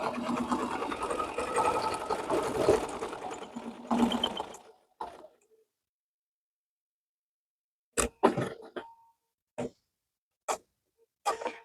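A sewing machine stitches a quilt appliqué in a close, steady mechanical whir for about four seconds. It then stops, and after a pause come several short, separate bursts of stitching.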